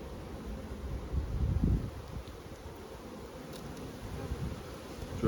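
Honey bees buzz at an open hive in an outside apiary, a close, steady hum that swells and fades slightly, with no talk over it.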